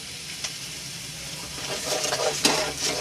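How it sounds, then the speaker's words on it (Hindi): A spoon stirs chicken seasoned with black pepper and salt in a frying pan for a cheese paratha filling, giving a soft, steady sizzle with a few scraping clinks that grow slightly louder near the end. "चम्मच चलाते रहिएगा।"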